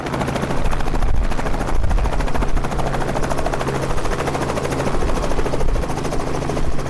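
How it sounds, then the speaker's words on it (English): A helicopter's rotor chops steadily with a heavy engine drone, loud and close throughout, no voices. "this trip also includes a helicopter tour, and that's where our adventure begins"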